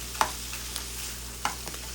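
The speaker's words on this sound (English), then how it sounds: "So just give that a mix with the meat and let it cook." Meat and rice for fried rice are stirred in a pan, with a faint, steady sizzle and a few soft clinks of the utensil against the pan at intervals.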